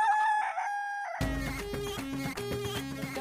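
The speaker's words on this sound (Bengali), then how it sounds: "এটা হলো কাউসারের মোরগ।" A rooster crows at close range, loud and drawn out with a rising-and-falling call, and is then joined by a busy backdrop of other sounds for the rest of the moment.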